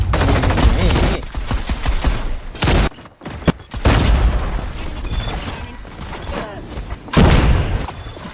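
Rapid bursts of Call of Duty Mobile gunfire crackle almost nonstop, with a heavy grenade explosion thudding midway and loud, dense combat noise throughout.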